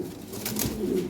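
Brief low coo from a Lahore pigeon, close and fairly quiet, over steady background hiss.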